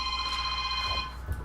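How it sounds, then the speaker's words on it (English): House phone ringing in the video game Ratchet and Clank, a steady electronic tone that holds for about a second and then cuts off, moderately loud, with no talk. "It's your house phone."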